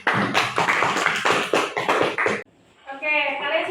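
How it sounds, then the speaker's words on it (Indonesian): Students in a classroom clap for a presenting group, a quick run of close, sharp claps for about two seconds, followed by a short pause and a voice speaking. "tepuk tangan untuk kelompok"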